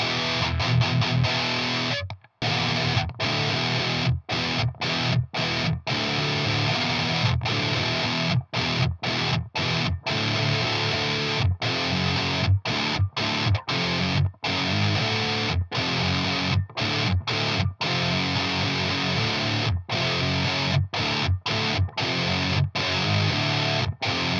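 Heavily distorted electric guitar played through a boost pedal into a distortion pedal plays thick, sustained chords, broken by short rhythmic gaps, loud and continuous throughout.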